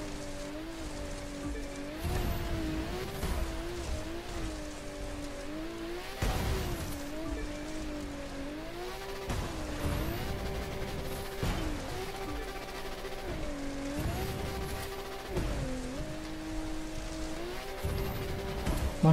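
Rallycross car driving in The Crew 2: engine droning steadily with pitch rising and dropping through repeated gear changes and throttle bursts, plus tire noise, with no talking.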